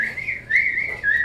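A pet bird whistles a run of clear, bright notes in a back-and-forth whistling game, the tones rising and sliding in short phrases with brief dips between them, close and fairly loud.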